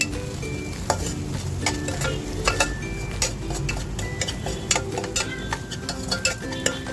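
Chili powder being stirred into egg curry frying in a pan: a spoon scrapes and taps the pan in a busy irregular rhythm over a steady close sizzle, with no talking.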